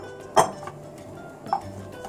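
Two soft clunks as pumpkin pieces are placed into a metal pot, a second apart, close by with quiet room tone between them.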